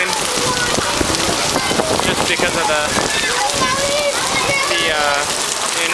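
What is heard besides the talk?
heavy rain pouring on streets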